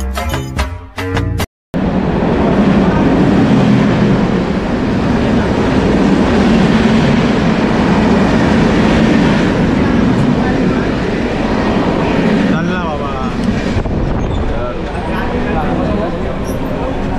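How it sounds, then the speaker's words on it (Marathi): Crowded local train in Mumbai running on rails, a loud steady rumble and rattle of carriages continuing throughout, with passengers' chatter mixed in beneath the noise. "आता तुम्हाला ट्रेनमधली गर्दी दाखवतो"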